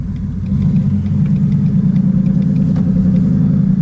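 Turbocharged 2018 Ford Mustang GT V8 running on race gas, a steady low engine rumble close by that swells slightly after half a second and holds at idle-like pace, no voices.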